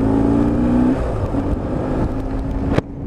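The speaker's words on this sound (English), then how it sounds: "with the boxer engine, when you do rev them, they do kick to the side" A BMW R1150R boxer-engine motorcycle revs loudly with a steady engine drone that drops off, then a sharp blip near the end before a sudden cutoff, with no talking.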